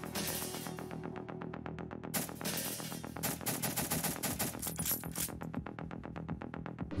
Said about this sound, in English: This person made a working gun in Geometry Dash.